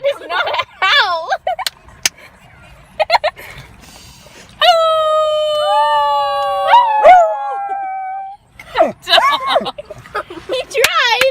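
A puppy attempts a howl, a long wavering high-pitched cry lasting several seconds, between bursts of whining and yips with people talking nearby.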